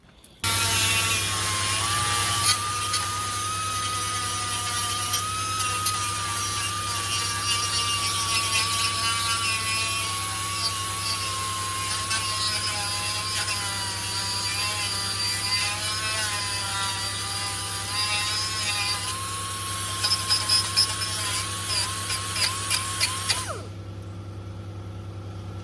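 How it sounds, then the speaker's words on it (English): Die grinder grinding metal on an early Ford Falcon: a steady, loud, high-pitched whine that holds for about 23 seconds with slight pitch wobbles, then cuts off abruptly. "Just a quick tickle up with a die grinder."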